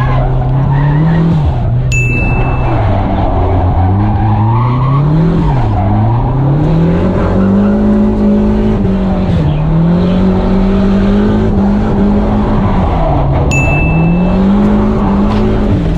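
A car drifting through a course, its engine note swelling and dipping as the throttle is lifted and reapplied, with skidding tire squeal running loud and continuous throughout.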